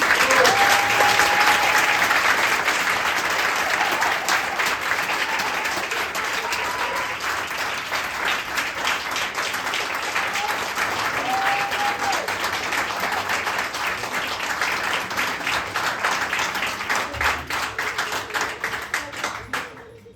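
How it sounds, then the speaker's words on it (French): A theatre audience at a Kaamelott stage show in Nice applauds loudly and steadily for the performers, dense clapping that holds for about twenty seconds before fading at the end, with a few whistles. "je vous demande vraiment d'applaudir les terribles très fort pour les encourager"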